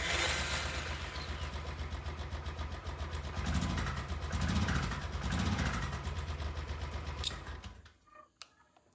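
A motorcycle engine runs steadily with a busy mechanical rattle and low throb, swelling slightly mid-way before cutting off near the end, leaving faint small knocks.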